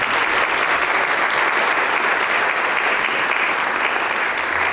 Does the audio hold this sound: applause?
yes